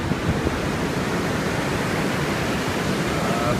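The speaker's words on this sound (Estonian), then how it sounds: "Lained on siin ägedad" Surf rolls in steadily at Surfers Paradise beach on the Gold Coast, Australia, as a dense, continuous roar of breaking waves without any distinct pauses.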